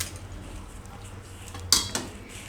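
A cooking pot of dal is lifted off a gas stove in a home kitchen, with a sharp metallic clank and a second, lighter clink over a quiet background.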